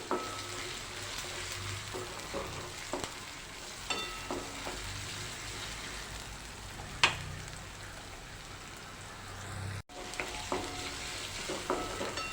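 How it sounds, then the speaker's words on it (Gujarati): Finely chopped tomatoes and onions fry in a pan with steady sizzling, stirred now and then with clinks and scrapes of the spoon, close and moderately loud with no talking. "હવે તેમાં ઝીણા સમારેલા ટામેટા એડ કરી દઈશું"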